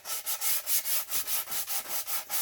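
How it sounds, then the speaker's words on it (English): Hand sanding on wood for a boat project, a rhythmic back-and-forth rasp of about a dozen even strokes, close and clear with no talking. "we'll take it from here with all hand sanding"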